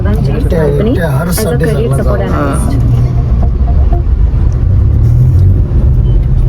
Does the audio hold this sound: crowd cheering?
no